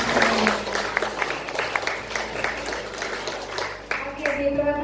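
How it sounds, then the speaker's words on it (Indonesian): Students applaud at a school event in SMKN 4 Kabupaten Tangerang, a dense, steady stretch of many hands clapping at close range that fades toward the end while a voice speaks. "Tepuk tangan dulu dong buat teman-teman."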